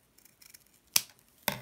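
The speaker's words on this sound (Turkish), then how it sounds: "Önce burada fazlalıkları kesiyorum." Scissors snip through excess yarn on a small crocheted phone bag, giving two sharp, close cuts about half a second apart after a few faint handling rustles.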